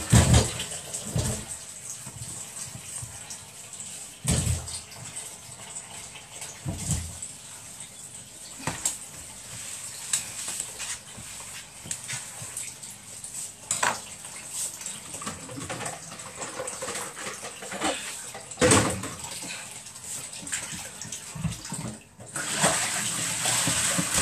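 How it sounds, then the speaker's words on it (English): Tap water runs steadily while potatoes are washed, a continuous rushing stream with repeated louder bursts and splashes as the potatoes are handled under it, close and fairly loud, with a brief drop near the end. "Wash the potatoes."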